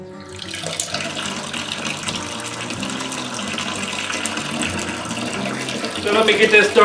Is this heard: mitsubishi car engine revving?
no